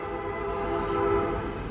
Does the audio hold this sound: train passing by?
yes